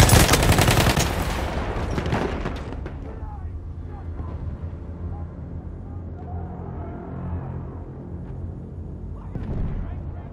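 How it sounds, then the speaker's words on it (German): Machine gun fire crackles loudly in a war video game, a dense burst of rapid shots at the start that fades into rumbling echoes. A voice talks briefly under the later part. "Ja, ein Maschinengewehr."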